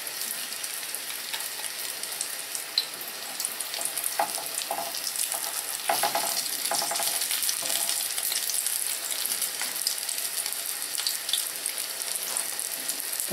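Zucchini slices in garlic batter fry in a pan over reduced medium heat, a soft continuous sizzle like light rain, with occasional clinks and taps of a utensil.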